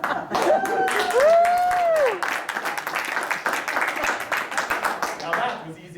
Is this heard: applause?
yes